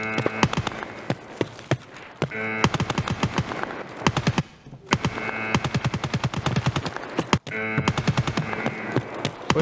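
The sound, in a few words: machine gun fire in the video game Escape from Tarkov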